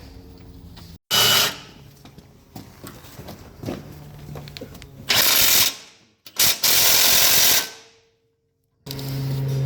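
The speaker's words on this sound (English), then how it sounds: "tighten it up with a 18 mil socket" Bolts on a Rockarmor GT bull bar fitted to a pre-facelift 200 Series Landcruiser are tightened with an 18 mm socket: loud, close bursts of rapid ratcheting clicks, broken by pauses and quieter handling noise, with no speech.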